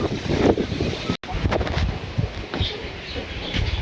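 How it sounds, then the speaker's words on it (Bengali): Strong wind buffets the microphone outdoors at a cattle sale, a heavy, gusting rumble with one brief dropout. Faint background sounds are mostly buried beneath the wind. "প্রচুর বাতাস।"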